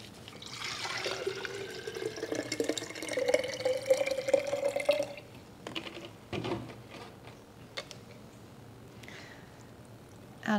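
Houseplants are watered indoors, with water pouring and trickling steadily for about five seconds, followed by quieter handling clatter and brief splashes.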